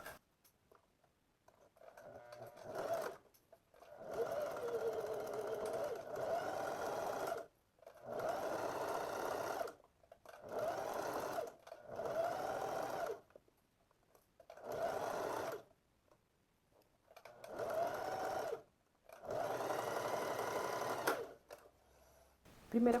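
A sewing machine runs the first seam of pleated shorts at a half-centimetre allowance. It whirs in repeated close bursts of a few seconds each, separated by short silent pauses.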